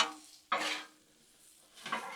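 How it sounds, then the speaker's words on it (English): A metal spatula scrapes and tosses bacon, potatoes and onions on a Blackstone griddle, two close scraping sweeps with a soft sizzle between them. "Mix it in here with these taters and onions and let it finish cooking."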